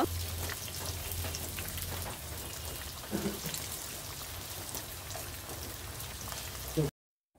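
Chicken pieces fry in hot oil with a steady, crackling sizzle heard up close, broken by a brief stir before it cuts off at the end, and a voice speaks faintly over it.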